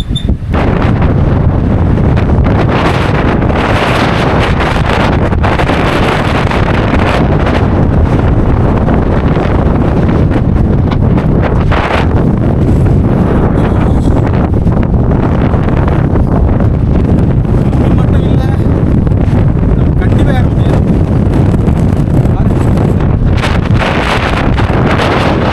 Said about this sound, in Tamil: செம காற்றடிக்குது